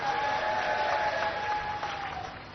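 Audience applause welcomes guests at a world peace Brahma yajna gathering with the chief minister, a steady wash of clapping heard somewhat distant and muffled, without speech over it.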